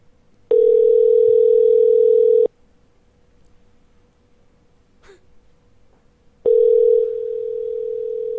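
A telephone ringback tone while calling someone, two long steady tones with a silent gap between them, loud and close with nobody speaking.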